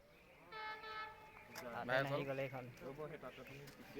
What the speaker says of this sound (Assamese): আমাৰ ট্ৰেইন আহিবলগীয়া হৈছে আপোনালোকে দেখি আছে।